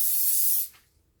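A single close burst of Pam cooking spray hisses into a baking pan for about half a second, then tapers off into quiet.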